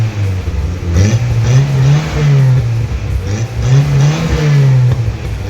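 A carbureted Toyota Corolla engine, long neglected and just brought back to life, idles unevenly and revs in repeated surges, loud and close with a rough, wavering pitch.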